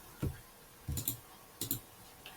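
Several short bursts of keyboard typing on a computer during UI design work in Figma, with three quick clusters of keystrokes and a faint final tap, close and fairly quiet with no talking.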